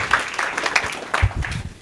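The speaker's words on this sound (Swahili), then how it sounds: "makofi wapigieni." Mourners at a family memorial service give a brief scattering of applause, a few separate claps mixed with nearby voices.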